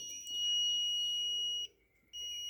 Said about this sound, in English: double check our meter, make sure it is working, and see if you can hear the audible tone